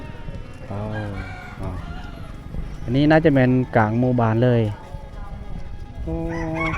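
Roosters crow in the middle of a rural Lao village of the Bru people in the evening, several loud drawn-out calls close by, with someone talking between and around them.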